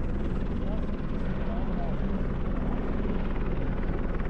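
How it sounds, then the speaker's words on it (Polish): A helicopter flies high on Aconcagua near Camp Canada at about 5300 metres, its steady low rotor rumble and engine drone continuous and fairly distant, with wind noise and no clear speech. "Właśnie helikopter kogoś zabiera."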